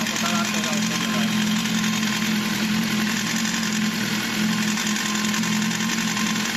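A BMW S1000 motorcycle engine with a suspected mechanical noise runs steadily at idle, recorded close to the exhaust valve, giving a constant, even mechanical hum with a fine rapid ticking texture throughout.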